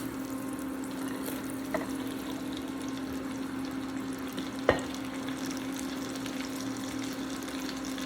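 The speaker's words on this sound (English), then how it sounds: "once the onions have softened, we're going to go ahead and add our green beans" Green beans going into a pan of softened onions, with a steady low frying hiss throughout and two brief knocks or clatters, one faint and one sharper midway, without any talking.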